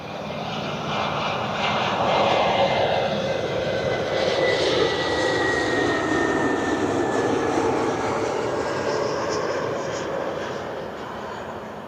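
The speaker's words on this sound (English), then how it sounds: "Airbus A320neo." A Frontier Airbus A320neo jet arriving at Cleveland Hopkins airport, a loud broad engine roar that swells and holds steady as it passes, then eases off near the end.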